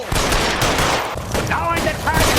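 Loud, dense gunfire in the video game L.A. Noire, a chaotic fusillade of overlapping shots filling the whole moment with no pause.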